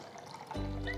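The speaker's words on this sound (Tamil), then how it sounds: "இப்போ தேவையான அளவு தண்ணியை ஊற்றிக்கலாம்" Water pours into a bowl of washed moong dal, a soft trickle giving way to a fuller, steady splash of filling liquid close by in a home kitchen.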